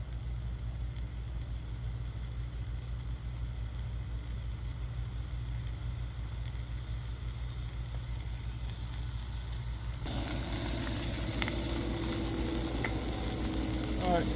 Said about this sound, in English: This burner burns hot, so I could already hear it start sizzling.